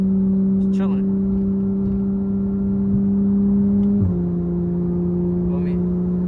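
Steady engine drone heard from inside a Porsche 911 GT3 while driving, a low constant tone that shifts down once partway through, close and even with no talking.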